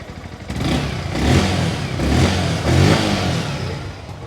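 Yamaha R15M motorcycle, 2024 Carbon Fiber Edition, revving near at hand, with the engine note rising and falling in several swells over a steady idle rumble; no talking.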